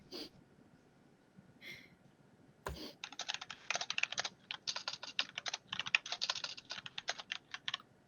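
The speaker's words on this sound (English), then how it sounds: "Typing." Rapid typing on a computer keyboard begins after a few short breaths and sniffs, forming dense, irregular bursts of close clicking that run steadily for about five seconds.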